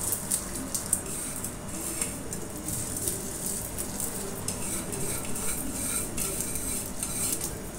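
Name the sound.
mixing crushed spices with salt and cumin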